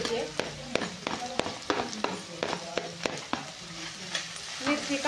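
Onion and green chili being sautéed in a pan for kanda poha, with a soft sizzle under repeated sharp clacks of a spatula against the pan in an uneven stirring rhythm, recorded close up.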